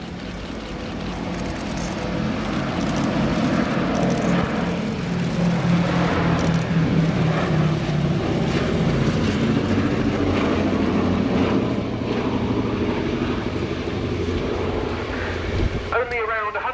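Boeing B-17G Flying Fortress Sally B flying a display at the RIAT 2017 airshow, a steady loud drone of piston engines and propellers swelling and holding throughout, with a voice talking over it.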